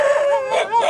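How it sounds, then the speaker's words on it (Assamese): Dogs bark loudly and close by in rural Assam, giving drawn-out, tonal, howl-like calls in quick succession. "কুকুৰকেইটা ভুকিলে"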